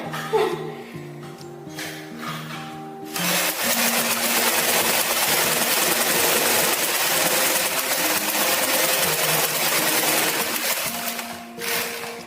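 A sewing machine stitches a fabric seam in a steady, fast whirring run of about eight seconds, with someone talking before and after it.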